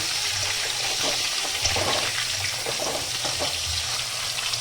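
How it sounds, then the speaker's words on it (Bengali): Vegetables such as green banana frying lightly in a wok for Bengali shukto give a continuous, dense hiss and crackle, steady and fairly loud throughout. "কড়াতেই তুমি একের পর এক সবজি দিতে পারো হালকা ভাজতে ভাজতে"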